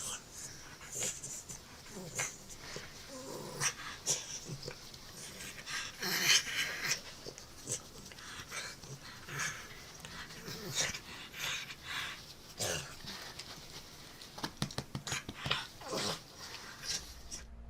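Small dog named Bubba whimpering and panting through a phone speaker, with quick breathy pants, snorts and small whines over a couple of soft voices and steady handling noise throughout.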